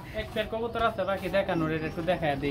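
Pigeons, running pigeons for sale, coo softly as they eat, beneath close, continuous conversation.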